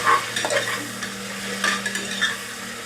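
Ground onion paste sautéing in a pan for a one-pot chicken biryani, a steady sizzle broken by a few stirring scrapes, with a low hum running underneath and no talking.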